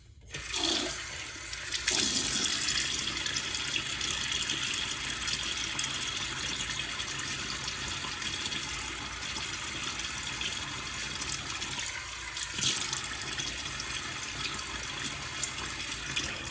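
Tap water runs steadily into a sink for wetting the face before a shave, a loud continuous gush lasting many seconds, with a brief change near the start and another around twelve seconds, no speech.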